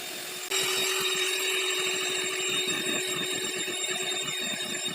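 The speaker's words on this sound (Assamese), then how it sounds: "এতিয়া মই হেণ্ড ব্লেণ্ডাৰ ইউজ কৰি ক্ৰীমটো 3 পৰা 4 মিনিটলৈকে ফেটি থাকিম।" A hand blender whips cream for cake icing with a steady, loud motor whine. It starts abruptly after a brief quieter moment and runs continuously, with faint rhythmic churning underneath.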